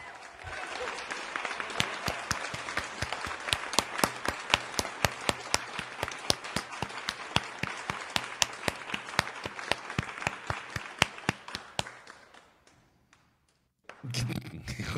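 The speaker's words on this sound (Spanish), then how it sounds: "se ha parado todo el mundo a aplaudir" A crowd in the video game Resident Evil 4 breaks into sustained applause, a dense patter of clapping with sharp individual claps throughout, fading out and stopping near the end.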